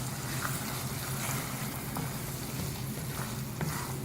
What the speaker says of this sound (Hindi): अब इसको भूनेंगे तेज़ आंच पे।